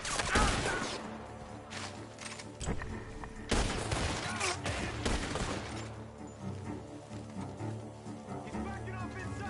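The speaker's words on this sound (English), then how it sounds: "Gunshots are coming from that bar." Gunfire erupting from a bar in a Wild West video game: a dense, loud volley of shots with sharp bursts near the start and again midway, over game music and ambient noise.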